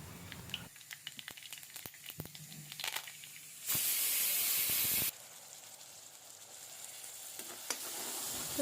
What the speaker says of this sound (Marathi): जे आपण कच्चं वाटण बनवलं होतं ते आता तेल सुटेपर्यंत छान परतून घ्यायचं आहे